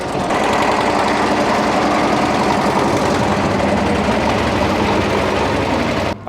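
A tractor engine idling loud and steady close by at a tractor festival, a dense continuous rumble with a rapid mechanical chug, cutting off abruptly at the end.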